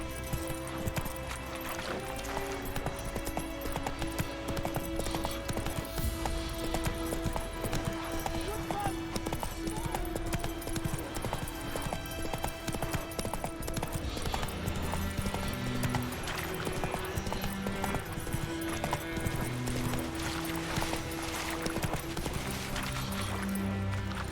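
Roach the horse galloping in The Witcher 3 next-gen game: steady rhythmic hoofbeats run continuously over layered game music and ambience, fairly quiet in the mix.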